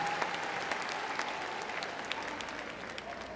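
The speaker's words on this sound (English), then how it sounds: "Give him a big round of applause." An audience applauds at the Crufts 2012 agility championship, steady clapping from a large indoor crowd, held at an even level and moderately distant throughout.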